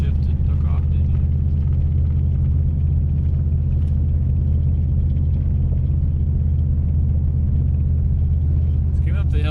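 A car engine downshifting and accelerating uphill on a cold day in a Missouri conservation area, a loud, steady low rumble and drone filling the cabin, with voices talking over it.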